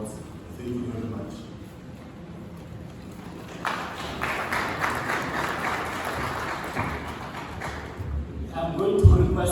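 Audience applause swells from about 3.5 seconds at an awards and investor event for the refurbishment of industrial parks, steady clapping that holds for several seconds before fading, with murmuring and talk around it.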